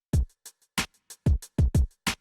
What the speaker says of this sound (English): I was able to take the hi-hat that sounded like this